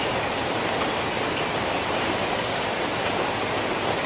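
Water is poured off a settled GANS mixture. A steady, broadband rushing wash runs loud and unbroken throughout, with no talk.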